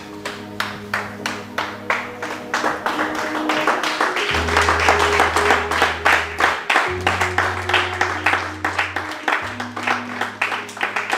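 A church congregation claps in steady rhythm to praise the Lord, bright repeated claps over a sustained organ-like keyboard chord, fairly close and continuous.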